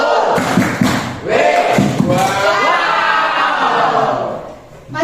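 Classroom of students chanting a clap cheer in unison, loud, close, rhythmic shouted syllables with thumping claps, ending in a drawn-out shout.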